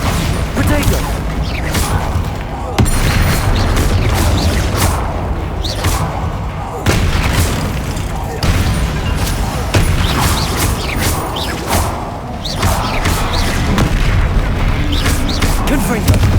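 Bombarda and Confringo spell explosions during a troll fight in Hogwarts Legacy, a loud, dense run of repeated booms, thuds and crashes over roughly sixteen seconds, with game voices calling out spells between the blasts.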